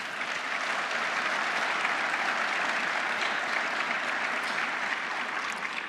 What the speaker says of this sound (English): please join me in another round of applause for the Northrop Grumman and opening panel